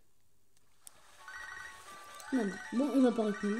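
A telephone rings in a room, its steady tone beginning quietly and continuing under someone speaking French.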